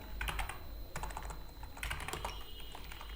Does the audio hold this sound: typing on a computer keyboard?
yes